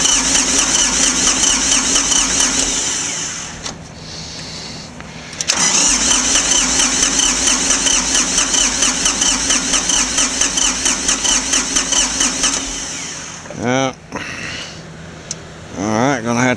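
Ford 1710 tractor diesel engine with a fault in the injector pump, cranking with a rhythmic labored churn, catching and running, then dropping away, close and loud, with a voice briefly near the end.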